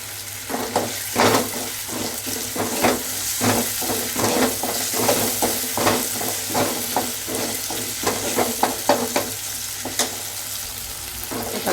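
Tomatoes, onions and green chillies sautéing in oil for a fish curry, a continuous sizzle broken by repeated scraping stirs of a spoon in the pan, close and fairly loud, with no speech.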